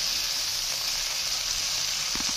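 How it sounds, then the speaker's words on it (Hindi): Spices and grated coconut sizzle in oil in a pot while being roasted for chicken makhni handi, a steady close hiss with a few faint scrapes near the end and no voices. "अब इसको हम अच्छे से भून लेंगे।"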